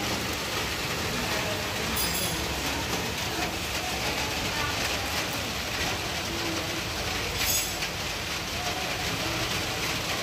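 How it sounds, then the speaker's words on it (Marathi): Late-afternoon rain falls outside a house in Pune as a steady, even hiss that fills the background for the whole stretch, with faint voices talking beneath it. "आता पावसाला सुरुवात झालेली आहे"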